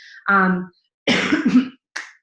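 A few harsh, close coughs and a throat-clearing burst come in separate clusters with short silences between them.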